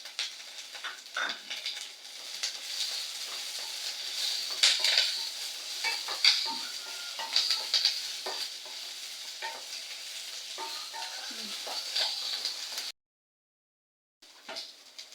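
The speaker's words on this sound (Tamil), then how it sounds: "வெங்காயம் பச்சை மிளகாய் நல்லா செவக்க வணங்கிட்டு இருக்குது" Onion, green chili and curry leaves frying in a pan for tomato thokku, a steady close sizzle with occasional spatula scrapes and clinks, briefly cutting out near the end.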